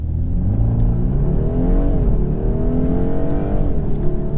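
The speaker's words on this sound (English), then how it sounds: "Left foot hard on the brake, right foot hard down on the gas." A 2022 BMW 230i launches under launch control at full throttle, its engine note loud and close, climbing steadily through the revs with brief dips at each gear change.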